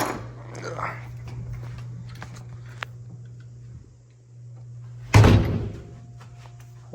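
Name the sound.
hotel room door being opened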